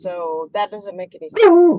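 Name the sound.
dog making noise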